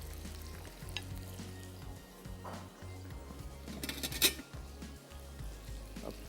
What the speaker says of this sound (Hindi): अच्छे तरीके से आपने मिक्स करना है